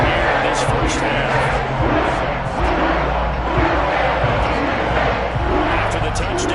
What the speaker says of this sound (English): And the crowd is on here in this first half.